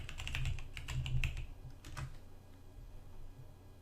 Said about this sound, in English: type in sudo reboot, enter your password.